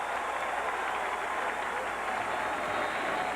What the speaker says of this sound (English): And the crowd comes to its feet